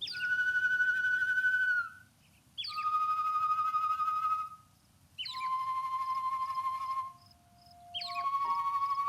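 Birdlike singing at Warbler's Nest in Zelda: Breath of the Wild: four clear, sustained whistled phrases, each opening with a short flourish, separated by brief pauses over a soft low background hum.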